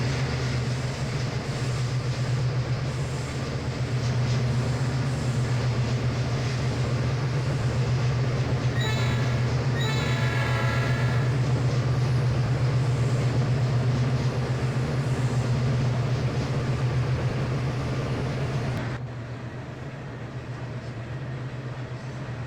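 A freight train in the game Trainz: A New Era runs steadily with a deep droning rumble and faint rhythmic clatter, then the sound drops abruptly in level near the end.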